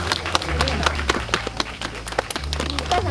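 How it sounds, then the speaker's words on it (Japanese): Scattered audience clapping at an outdoor bird show featuring a Eurasian eagle-owl at Ikaho Green Farm, sharp irregular claps running under a speaking voice. "拍手してもいいですよ。"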